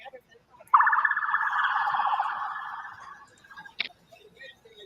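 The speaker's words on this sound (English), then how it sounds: "I can tell by the sound. Tell by the siren." A police car siren sounds in the distance as a steady, buzzing warble lasting a couple of seconds before fading, followed by a brief click, with faint background noise and no talk over it.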